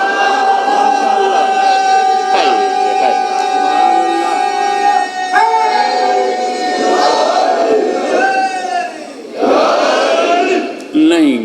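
A large crowd at a Muharram majlis shouts religious slogans in loud, sustained bursts answering a leader's calls, the massed voices swelling and fading over about eleven seconds.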